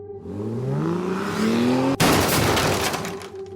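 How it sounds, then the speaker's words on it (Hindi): A motorbike falls from the rider's grip and slams onto the road: an engine drones with rising pitch, then a sudden loud crash at the midpoint gives way to a harsh, noisy scraping clatter that fades slightly. "बाइक उसके हाथों से छूट गई और वो जोर से सड़क पर जा गिरा।"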